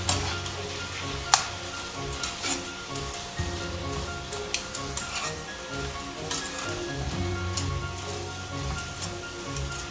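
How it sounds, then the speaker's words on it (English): Chicken curry simmering in butter in a pan, a steady soft sizzle and crackle with occasional sharp pops and stirring clatter, continuous and close. "We'll let that simmer."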